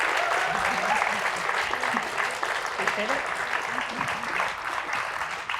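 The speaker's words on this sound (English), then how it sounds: "I would like to please round of applause for Trevor" Audience applause at a public art talk fills the room in a dense, steady wash of clapping that tapers slightly toward the end, with someone speaking briefly over it.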